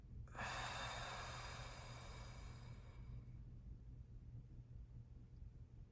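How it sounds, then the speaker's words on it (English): A deep breath drawn in and let out through the mouth during a beginner body-scan meditation, a soft, close, steady airy rush lasting a few seconds before fading into quiet room tone. "big inhale down to your belly and out your mouth"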